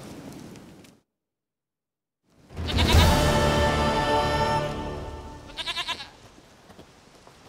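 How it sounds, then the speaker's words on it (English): A goat bleats loudly and close in The Witcher 3: Wild Hunt, one long wavering cry after a brief silence, followed by a shorter quavering tail. "Goat of mine, dearest, sweetest goat."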